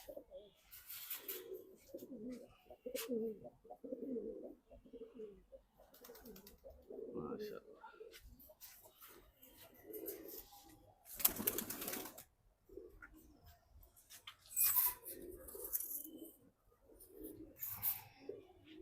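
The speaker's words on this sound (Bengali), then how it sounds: "এই কবুতরগুলো হাট থেকে সংগ্রহ করা" Pigeons in a Dhaka loft, birds bought at a market, coo in low repeated bursts through the clip, with wing flutters and scattered chirps close by and faint talk in the background.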